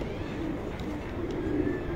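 Pigeons on a rooftop breeder's loft give a faint, low coo amid quiet outdoor background noise.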